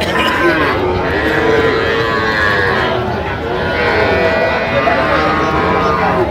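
Sahiwal breed bull calves moo repeatedly at a busy cattle market, the drawn-out lowing calls loud and close amid crowd noise and people talking.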